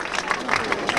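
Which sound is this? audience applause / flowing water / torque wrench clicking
audience applause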